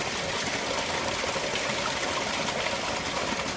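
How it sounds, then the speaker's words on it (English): Water released from the pressure tank of a ram pump, a steady loud rushing gush with no break, close and alone. "next I'm going to open the pressure tank and release the water"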